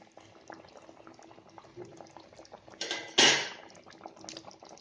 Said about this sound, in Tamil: இப்போ நம்ம ஃபிஷ்ஷை இதில் போட்டுடலாம்